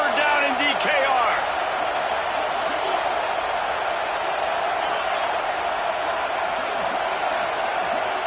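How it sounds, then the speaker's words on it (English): A packed stadium crowd roars in a dense, sustained wall of noise on a third down at DKR during a Texas versus Oklahoma State football game, loud and unbroken throughout. "Serious noise on 3rd down in DKR."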